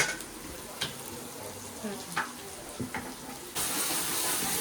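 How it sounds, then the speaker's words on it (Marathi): Masala spices roasting and sizzling in a pan on a home stove, a steady low frying hiss with a few light scraping stirs, turning louder and brighter near the end. "थांबून थोडंसं अजून भाजू द्यायचा मसाला."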